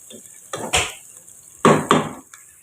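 Chopped green chillies tossed into a hot pan for a masala, giving two loud bursts of hiss and sizzle, each with clattering of a spoon against the pan, quiet between them.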